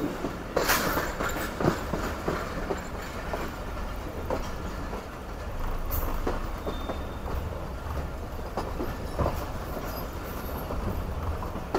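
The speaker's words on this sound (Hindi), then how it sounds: "ले जी, घूम गई है हमारी ट्रेन।" The Karakoram Express, running with old coaches, rolls along the tracks with a steady rumble, rhythmic clickety-clack of wheels over rail joints and occasional metallic knocks, continuous and fairly close from inside the train.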